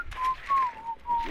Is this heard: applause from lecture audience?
no